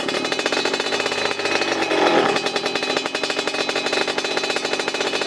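A Yamaha Yaz motorcycle engine rumbles loudly up close after the throttle is released, its modified exhaust crackling and popping in a rapid, uneven rhythm.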